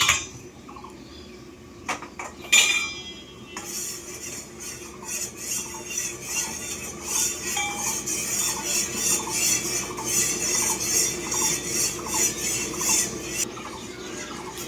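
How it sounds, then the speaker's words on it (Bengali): A spoon scrapes and clinks against a pot as an agar-agar and milk mixture is stirred while heating, with repeated regular scraping strokes close up and no talk. "হালকা হালকা আমি নেড়ে নিচ্ছি না আরে তলা থেকে ধরে যেতে পারে"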